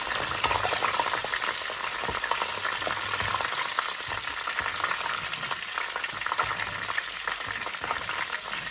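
Dried chilies fry in hot oil in a wok, a dense, steady crackling sizzle that runs without a break, close and moderately loud.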